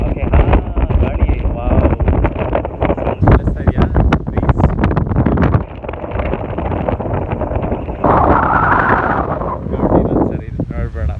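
Strong wind gusts on the bank of the Cauvery River near Hogenakal, buffeting the microphone with loud, rumbling roars that swell and ease across the stretch, and a voice speaks briefly over the blowing.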